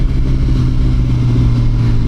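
A liter-class sport motorcycle engine roars loud and close with a deep, steady rev held through a power wheelie.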